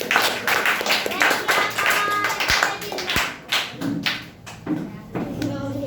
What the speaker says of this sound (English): So well done, clap for him.